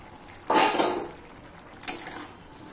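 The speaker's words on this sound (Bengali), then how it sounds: "মাঝে মাঝে এভাবে ঢাকনা সরিয়ে একটু নাড়িয়ে নিতে হবে যাতে নিচে লেগে না যায়" Metal pot lid lifted and potato curry stirred in a cooking pot: a sharp clattering scrape followed by a brief clink, two close, clear bursts of kitchenware noise.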